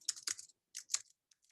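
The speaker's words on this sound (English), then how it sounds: "I'm going to type in capital letters" Someone types capital letters on a computer keyboard: two quick bursts of crisp key clicks separated by a short pause, then a few faint isolated taps, close and with no talking.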